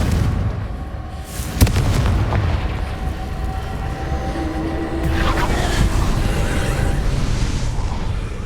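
A Confringo spell explodes in the Hogwarts Legacy video game, a sharp blast followed by a rolling, roaring rumble that carries on loudly throughout, with another surge of noise partway through.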